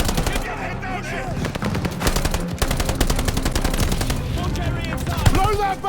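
Sustained enemy MG machine-gun fire in a Call of Duty Vanguard battle during a 1944 Normandy airborne assault, rapid loud bursts rattling continuously throughout, with shouted voices mixed into the dense combat noise.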